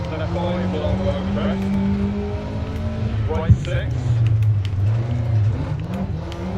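A rally car in the DiRT Rally game drives with a steady, loud engine drone and occasional revving throughout, under someone talking.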